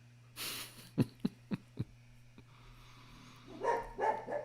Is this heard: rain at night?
no